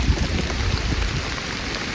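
Steady rain falling outdoors along a hillside hiking trail, a dense even patter on the ground and foliage with no voices, continuous and fairly close throughout.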